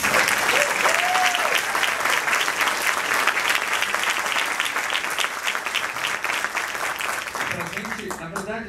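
An audience claps warmly for a guest, a full, sustained round of applause from many people, with a voice briefly rising over it near the start and talk creeping in at the end.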